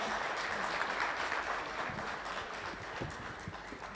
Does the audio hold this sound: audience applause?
yes